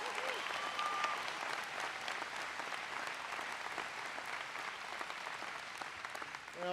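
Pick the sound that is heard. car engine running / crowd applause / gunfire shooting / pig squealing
crowd applause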